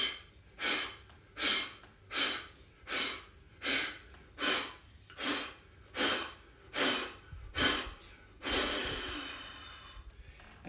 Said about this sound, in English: We're going to do that again for 10, but I want you to try and focus on getting your belly button to move